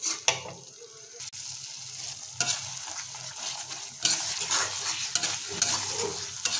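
Ground spice paste sautéed on a low flame for a jackfruit curry, with a soft continuous sizzle broken by several sharp scrapes and knocks of a spatula against the pan, close by and moderately loud.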